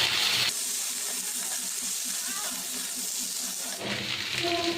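Water is poured into a pan where diced potatoes and chopped capsicum are frying, setting off a loud hiss and steamy sizzle that settles into a softer bubbling before flaring again near the end.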